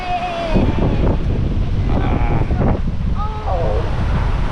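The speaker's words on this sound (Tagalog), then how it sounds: "Oh, the wind! Lakas ng hangin, guys." Strong wind buffets the microphone at a beach resort in Baler, with broadband roar and waves in the background, while people talk and a high whistle-like sound is briefly heard.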